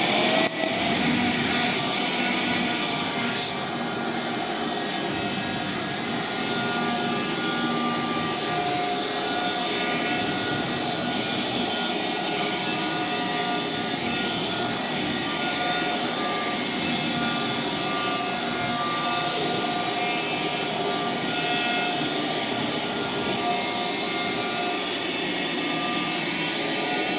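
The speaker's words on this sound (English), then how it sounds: "Hoover the worst of this" A vacuum cleaner hoovering dust out of a PlayStation 4 console during servicing, a loud, steady, continuous whine and roar held close for the whole stretch, with no talking.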